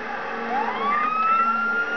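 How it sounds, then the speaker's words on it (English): A police car siren in a video game wails upward and holds a steady high tone, rising in pitch over a couple of seconds against a constant engine-like hum. "I turn off the sirens"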